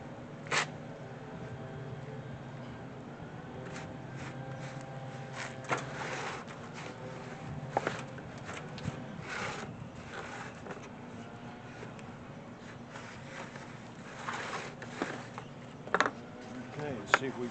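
A blade slices through a cheap boat rub rail bumper with quiet, scraping and clicking mechanical sounds. Scattered ticks and a few sharper snaps come through over a steady low background hum.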